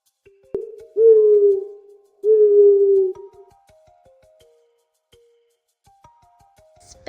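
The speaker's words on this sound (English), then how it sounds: "This is an owl." An owl hoots twice, each a long, steady, low hoot of under a second, close and clear, followed by faint quiet tones.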